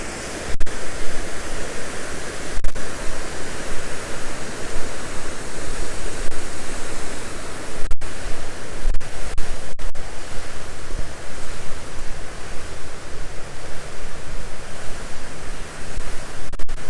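Water pours over a high weir in Roe Valley Country Park after heavy rain, a loud, steady broadband rush that fills the whole stretch without a break, with no voices over it.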